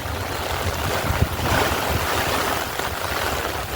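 Heavy rain and strong wind roar steadily in a broadband wash in Thrissur, Kerala, with gusts buffeting the microphone at close range; no voices are heard.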